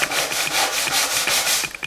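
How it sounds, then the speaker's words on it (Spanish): Sandpaper rubs back and forth over soft pine wood slats of an accordion-style bed base in a quick, steady rhythm of close scratchy strokes. "Aparte ahora cogemos la lija"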